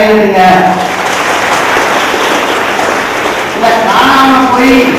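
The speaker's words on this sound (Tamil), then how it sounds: "அப்படி இருப்பீங்கன்னா எல்லாம் கைதட்டுங்க." An audience at a speech claps together in a dense, loud burst of applause that runs throughout, with a voice talking over it at the start and end.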